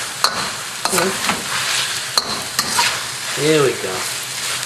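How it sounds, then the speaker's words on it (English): Eel frying in a hot wok with Thai hot curry, a steady sizzle under scraping stirs and clanks of the utensil against the pan, close up, with a brief spoken remark. "The eel's been cooking for about 3 minutes"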